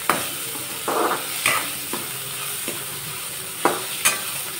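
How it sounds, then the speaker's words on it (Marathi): Onion, tomato and spice paste with turmeric and sabzi masala sizzles steadily in hot oil for a Marathi dal kanda dish, with several soft stirring scrapes and a couple of sharper clinks of the spoon against the pan. "हे सर्व मिश्रण व्यवस्थित तेलामध्ये छान असं फ्राय करून घ्यायचं आहे।"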